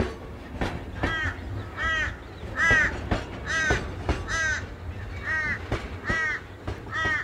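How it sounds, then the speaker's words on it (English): Crows cawing repeatedly, harsh calls coming every second or so at close to moderate distance, with sharp knocking sounds in between and no voices. "They're ominous, the crows."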